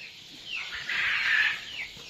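A chicken clucks in a quail-rearing pen on a farm, one drawn-out, fairly close call rising and falling over steady background noise.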